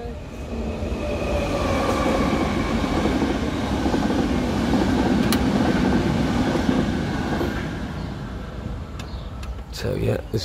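Near a seaside campsite in Liguria, a train rumbles past on a nearby railway track, a loud sustained roar with wheel clatter that swells and then fades, ending in a few clunks.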